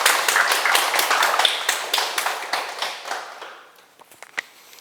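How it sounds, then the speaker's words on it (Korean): An audience at a Korean Sunday lecture breaks into dense clapping that holds steady, then thins out to a few scattered, isolated claps near the end. "큰 박수 한번 부탁드립니다"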